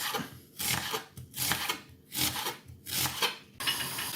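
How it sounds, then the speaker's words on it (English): A knife slices through an onion on a board in regular rasping strokes, each about half a second long with short pauses between, near and fairly clear. "Then we need 1 onion, which we'll chop into slices."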